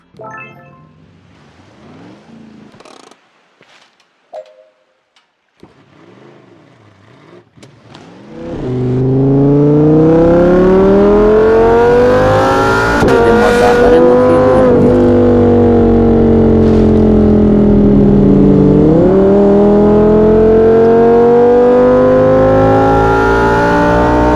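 A car engine drives steadily in the snowy Off the Road off-road game, rising and falling in pitch as it revs, loud and continuous after a quieter stretch of short mechanical noises at the start.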